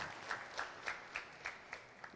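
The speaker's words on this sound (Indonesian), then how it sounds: "Tepuk tangan semuanya." Sparse, faint claps from a school quiz competition audience, several distinct hand claps spaced roughly a quarter second apart at a distance.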